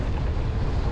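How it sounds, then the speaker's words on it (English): Wind blows hard across the microphone during a mountain bike ride, a dense, loud, continuous rumbling buffet with no pauses. "it is a little windy right now"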